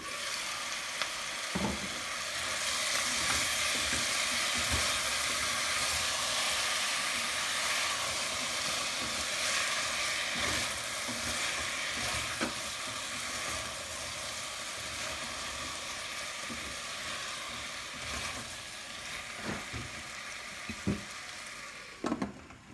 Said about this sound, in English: The potatoes have been cooking for a few minutes on a medium-high heat.